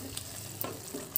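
Chopped coriander is stirred into a capsicum and tomato curry in a pan: faint, soft sizzling under a few light scrapes of the spoon, quiet and close, with no talk.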